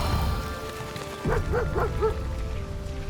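A dog in the video game Baldur's Gate 3 gives a quick run of about four short barks over steady game ambience and music.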